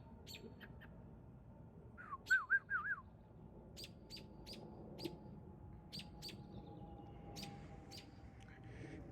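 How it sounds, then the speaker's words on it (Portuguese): A small bird gives a quick burst of bright chirps, followed by scattered faint tweets over a low, steady background hum. "Muito legal esse passarinho, muito bonito também."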